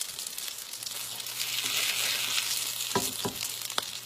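Salmon croquettes frying in hot oil, a continuous crackling sizzle with a few sharper pops and scrapes of a utensil near the end, close and alone.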